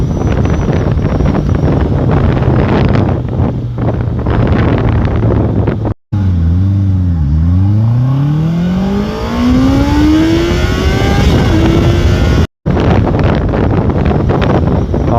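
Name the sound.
Honda CBR 650R motorcycle engine revving while riding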